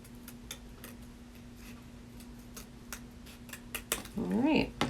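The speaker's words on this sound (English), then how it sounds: "I turn the paper to come in and meet the scissors" Scissors snip through paper while cutting quilt leaf shapes, a series of faint sharp ticks spaced through the clip, followed near the end by a louder burst of rustling and a brief voice.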